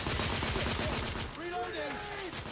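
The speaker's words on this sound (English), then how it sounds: "I'm taking heavy fire." Rapid gunfire rattles in a dense burst during a firefight in The Order 1886, then gives way to shouting voices over the noise.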